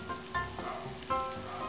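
Chicken curry sizzling and frying in a pan with carrots and potatoes being mixed in, a steady close hiss with a couple of brief stirring scrapes, no talking.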